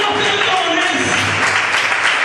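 A church congregation applauds during a sermon, a brief continuous wash of clapping with voices mixed in.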